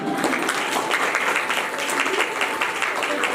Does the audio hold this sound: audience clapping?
yes